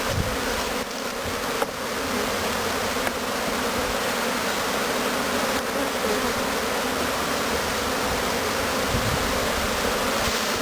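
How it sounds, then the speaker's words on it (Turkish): Honey bees at a queen-rearing starter colony hive buzz in a dense, continuous swarm drone, close and steady throughout. "Moğoladan gelen arılar."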